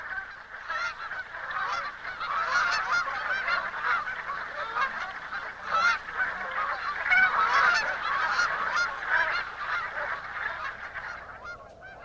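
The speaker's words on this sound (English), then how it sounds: "As the land is released from the grip of winter, the first geese arrive." A flock of geese arriving in spring in Alaska's Brooks Range honks continuously, many overlapping calls at mid distance forming a steady chorus throughout, with no talking.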